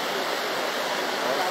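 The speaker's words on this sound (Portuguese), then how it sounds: "Barragem do Bezerro acaba de estourar." Water from the burst Bezerro dam in Bahia roars in a steady, loud, broadband rush with no break, close and constant like a torrent pouring through the breach.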